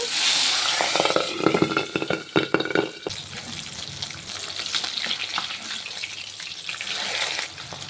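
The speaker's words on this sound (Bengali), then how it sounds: "বাকি মাছটিকেও একইভাবে ভেজে নেব" Fish fries in hot oil with a loud, continuous sizzle and hiss, sharper crackling bursts early on, then a steadier bubbling spatter close by.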